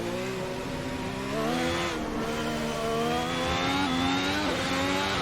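F1 car in a racing video game, its engine note dropping as it downshifts to second gear for a chicane in the wet at the Belgian Grand Prix. The tonal whine is steady and loud, sliding in pitch with no speech.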